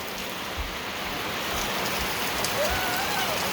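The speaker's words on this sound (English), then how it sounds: "Oh boy, now it's raining real good." Heavy rain falls steadily outside a tortoise shed, a dense, even hiss of drops drumming on surfaces that continues unbroken at moderate loudness, with no voices.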